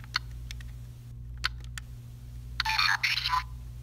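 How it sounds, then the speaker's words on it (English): A LEGO Mindstorms EV3 brick's robot sound effect: a few short chirps and beeps, then a bright burst of warbling synthetic tones, fairly quiet over a low hum. "cool little robot sound for number 9"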